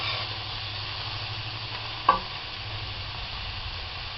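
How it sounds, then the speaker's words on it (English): A cup of fresh onions, lightly salted, sizzles softly and steadily in a pan for a green bean casserole, with a single brief clink of a utensil partway through. "Your cup of fresh onions goes in the pan."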